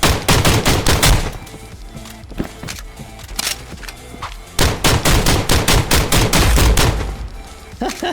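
Rapid bursts of shotgun fire in the video game Contractors Showdown, loud sharp blasts in quick clusters with brief pauses between volleys, sounding close and alone.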